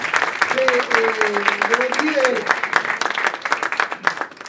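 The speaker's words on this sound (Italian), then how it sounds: "Un applauso." Audience applause fills a 2016 legal awards ceremony, sustained dense clapping throughout while a speaker talks over it.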